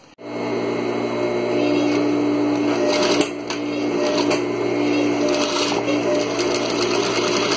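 A sewing machine runs a steady, continuous stitching drone while a seam is sewn on a ruffled, pleated table runner; one brief pause breaks the sound near the middle, and there is no talk.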